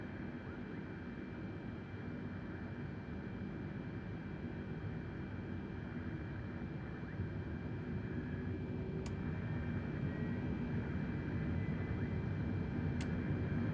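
Airbus A320neo jet engines in Microsoft Flight Simulator holding a steady broadband roar that swells slightly as thrust builds for takeoff, with a faint tonal whine and two brief clicks, no voices.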